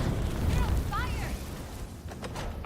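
A fire trap bursts into flames in the Indiana Jones and the Great Circle video game, making a loud, rushing whoosh and roar with a brief mechanical clatter, heard under a voice.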